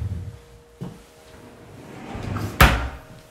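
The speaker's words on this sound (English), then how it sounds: "With your doors that just slide open." Sliding glass doors on a corner shower in a modern flat bathroom glide and knock shut, two short sharp thuds close by in a quiet room.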